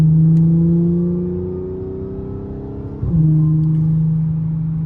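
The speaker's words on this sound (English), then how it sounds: "it's very hard to hear the supercharger sometimes with this AWE track exhaust" A 2013 Audi S5 B8.5 supercharged V6 with an AWE track exhaust drones loudly, easing off then picking back up in a steady rev with a whirring tone, heard from inside the car.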